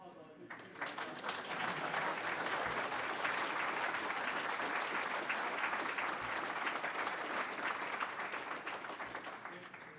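A room at a city council meeting breaks into sustained applause, dense clapping rising quickly and holding steady for several seconds before tapering off.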